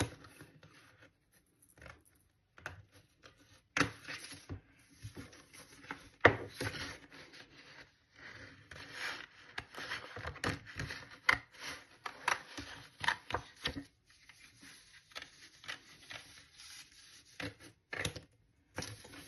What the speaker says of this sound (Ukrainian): І зараз ми виріжемо коло 2.